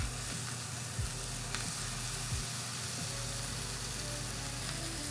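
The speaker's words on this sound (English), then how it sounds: "Searing is cooking on high heat to get color on pieces of meat or vegetables" Venison sears in a hot pan, giving off a loud, even, unbroken sizzle with a low steady hum underneath and a few faint knocks.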